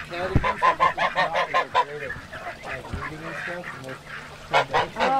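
Several Canada geese honk loudly and repeatedly nearby, their calls overlapping in a noisy, continuous chorus.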